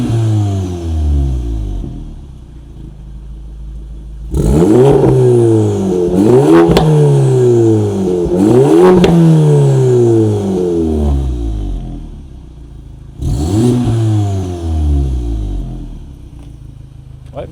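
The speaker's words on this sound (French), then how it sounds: "je mets 2-3 coups de gaz et on dit au revoir" A car engine breathing through a titanium exhaust line revs hard in repeated bursts, each rising and falling sharply, loud and close, with a steady idle between the blips.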